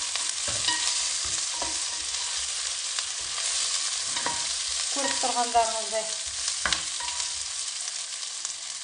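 Eggplant frying in a pan for a salad produces a continuous hiss of sizzling oil with occasional stirring clatters, and someone speaks briefly over it.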